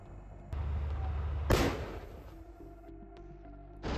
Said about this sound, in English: As a result of one of the shelling, an explosion occurred.